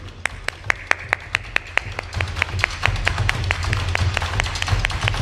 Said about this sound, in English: I can see a few people not clapping.